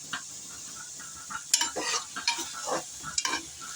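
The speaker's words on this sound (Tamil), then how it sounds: "இது வந்து கொஞ்சம் நல்லா ஆயில் விட்டு நல்லா வதக்கிக்கணும்" Mushrooms stirred and sautéing in oil in a pan, a soft steady sizzle broken by bursts of spatula scraping and clinking against the metal, close and moderately quiet with no talking.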